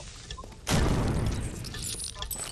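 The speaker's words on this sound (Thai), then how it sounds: "กูรอให้ไอ้คริปเปอร์ระเบิดซอมบี้อ่ะ" A creeper explodes and kills a zombie in the Minecraft survival game, a sudden loud blast that hits at once and then trails off into a long, noisy, crackling decay.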